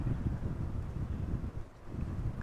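Wind at Amsterdam Schiphol Airport gusts across the microphone, a low steady rumbling buffet with no voices.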